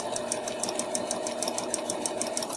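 Sewing machine back-stitching fabric, a steady rapid mechanical whir with evenly spaced needle clicks, close and continuous with no talk.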